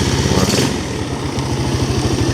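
A 2010 Yamaha Jupiter Z motorcycle engine starts and settles into a steady idle, its low rapid putter pulsing evenly and close by, with no voices.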